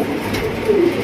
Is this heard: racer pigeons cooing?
yes